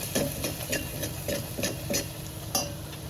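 Curry leaves, garlic and ground coconut are stirred in a pan, a spoon scraping in a steady rhythm of soft strokes over a low sizzle, close and moderately quiet.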